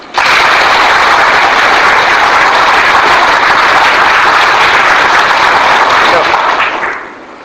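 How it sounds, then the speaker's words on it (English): A hall full of students clapping together, a dense, loud burst of applause that holds steadily for several seconds before tapering off. "So you will get energized. Clap once."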